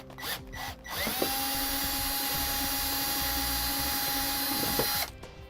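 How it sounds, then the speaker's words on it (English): A power drill whines steadily at close range for about four seconds, spinning up after a few brief clicks and winding down at the end, drilling out a hole with a final-size bit while installing an alarm kit on a 2016 Freightliner motorhome. "we'll switch out to our final size drill bit that's indicating the instructions and drill it out completely"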